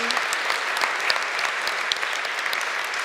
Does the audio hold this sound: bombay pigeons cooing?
no